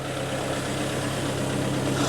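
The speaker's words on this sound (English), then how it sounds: "While the tractor's warming up" A tractor engine idling as it warms up, a steady, loud, close rumble that holds without change from start to finish, with no talk.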